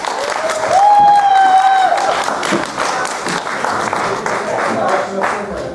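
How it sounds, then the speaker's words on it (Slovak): An audience applauds loudly and steadily at an indoor event, with a dense wash of clapping and scattered cheers that stays strong throughout while voices call out over it. "veľký potlesk"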